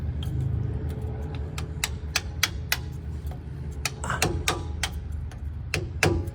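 A loose bolt rattles inside a 109-inch Land Rover: irregular sharp metallic clinks and taps over a low, steady engine rumble, denser near the end, no talk.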